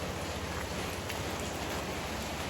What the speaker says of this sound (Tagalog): Basta talaga maulan